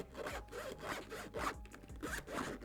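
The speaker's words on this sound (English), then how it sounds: "All right, the zippers are not great." A zipper on an Amazon Basics hard shell case is pulled in a quick series of close, scratchy strokes, each a short rasping zip, with no voices.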